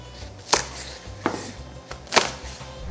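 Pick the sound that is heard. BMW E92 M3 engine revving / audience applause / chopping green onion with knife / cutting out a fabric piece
chopping green onion with knife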